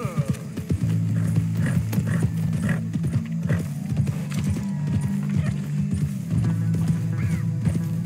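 Horse in Red Dead Redemption 2 clip-clopping at a steady rhythm with a few whinnies and neighs, loud and close, with faint background game sounds.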